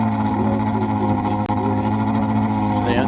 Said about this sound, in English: It was actually the diesel in the Dodge that was idling.